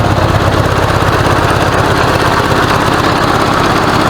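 A 1986 Honda Goldwing GL1200 SE-I motorcycle engine with a suspected bad stator idles low, steadily and close by, a low, rapid chugging throb that holds unchanged throughout.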